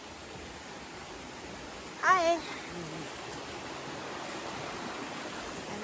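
A big river flows steadily along the Appalachian Trail in New Hampshire, a broad, continuous rushing wash that fills the whole scene, with a single brief spoken greeting rising above it partway through.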